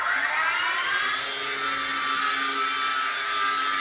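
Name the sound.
toy RC helicopter rotors spinning at full throttle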